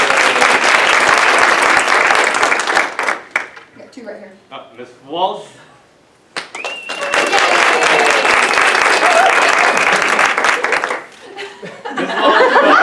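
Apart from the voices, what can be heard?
audience applause for teacher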